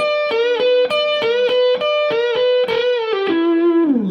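Distorted electric guitar plays a short repetition lick, quick repeated picked notes in an even rhythm ending on a bent sustained note, loud and close.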